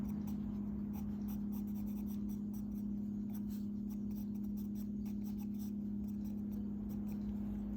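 Pencil drawing and shading on paper, a continuous close scratching and rubbing with quick repeated strokes over a steady low hum, no talk.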